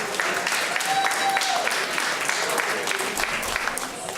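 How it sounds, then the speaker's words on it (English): An audience at a one-year anniversary celebration gives the band on stage a sustained round of applause, dense clapping filling the room with a few voices and whoops mixed in. "Having a big round of applause for our music."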